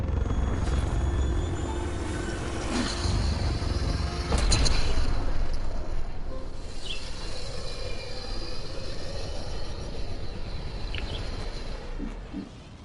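The spaceship Tempest in Mass Effect Andromeda departs with a low, heavy engine rumble and a broad roar, steady and loud, plus a few faint higher whines and clanks.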